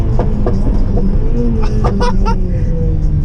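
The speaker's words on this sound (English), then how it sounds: "that pop and bang is way more aggressive than I remember" Sharp, irregular exhaust pops and bangs crackle from a Honda Civic Type R FN2 over a low engine rumble, several close bursts clustered in the middle of the stretch.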